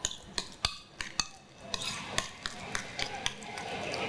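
Prawns and rice being mixed with coconut oil, salt and black pepper in a bowl, a run of rhythmic metal utensil clinks and scrapes against the dish, close and clear, with no talk.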